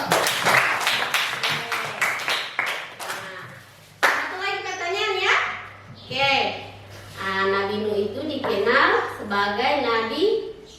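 Schoolchildren in a classroom clap their hands in a quick burst of sharp, rhythmic claps, then break into chanting and talking voices.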